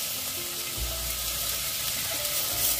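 Onion and green chillies frying in a pan with tomato for a Goan white pea curry, a dense, continuous sizzle that stays loud and even throughout, with faint stirring underneath.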